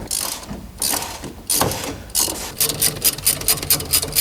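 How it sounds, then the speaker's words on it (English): A ratchet tightens the bolts on the back of a racecar brake caliper, clicking fast and rhythmically in short bursts with brief pauses between strokes. Close and clear. "Now we tighten the bolts on the back."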